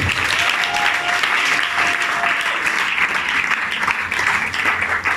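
A church congregation applauds loudly and steadily throughout, dense continuous clapping filling the hall without a break.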